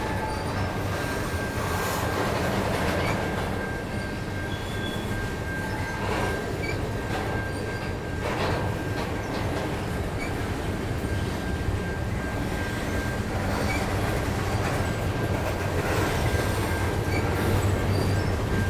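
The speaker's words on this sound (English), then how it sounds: "I quite often watch the train as it goes by" A freight train rolls steadily past with a continuous rumble, rattling cars and occasional wheel squeal, heard at moderate distance.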